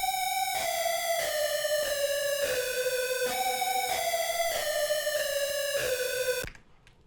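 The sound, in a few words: very distorted falling synth lead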